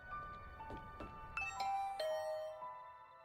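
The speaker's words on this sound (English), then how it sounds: "I rang the doorbell and could hear the bell ring on the other side of the door" A doorbell chimes in the video game The Hundred Line: Last Defense Academy, a bright ding-dong tone ringing out clearly over a soft ambient music bed, the chime repeating a few times.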